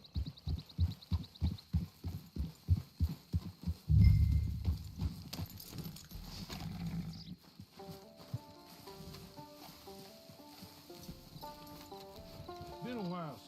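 A horse walks in Red Dead with rhythmic, close hoof clip-clops, a steady two-beat pattern that stops after a few seconds. A heavier thud and rustle follow, then soft ambient music, with a voice speaking in the middle.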